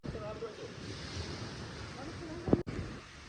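Sea waves and wind on a Lakshadweep beach before a kayak outing make a steady rush of surf, with wind buffeting the microphone and a brief thump near the end.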